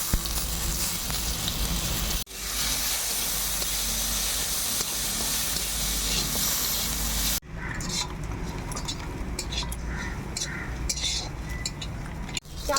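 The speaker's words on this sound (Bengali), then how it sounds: "ঘি দিয়ে আমি আতপ চালটা ভেজে নেব" Atap rice fries in hot ghee in a wok with a steady, dense sizzling hiss. The sound breaks off twice, and the later stretch has lighter crackles and scattered pops.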